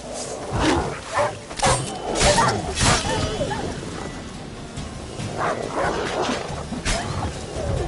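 Dogs bark and yelp in The Witcher 3 video game, loud and close, coming in repeated bursts while people talk.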